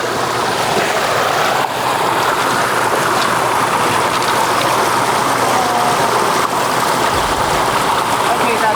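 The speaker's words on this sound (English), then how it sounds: "I didn't even know you were going to have a waterfall down here." A waterfall on a 185-foot stream at Twin Falls, Idaho, rushing as a loud, constant broadband wash of falling water at close range, with voices faintly mixed in at times.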